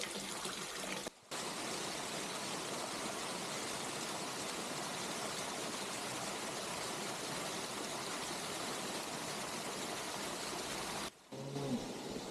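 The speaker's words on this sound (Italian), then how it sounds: "Di fronte a te la fontana dell'ingresso." The entrance fountain at Parco Museo S'Abba Frisca makes a soft, steady wash of splashing water throughout, interrupted by two brief dropouts.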